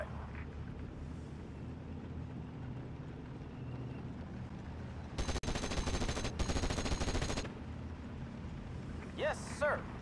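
A machine gun opens up in Steel Division Normandy 44, a rapid rattling burst of about two seconds heard at moderate distance over a low ambient rumble, followed by a brief pause and another short burst.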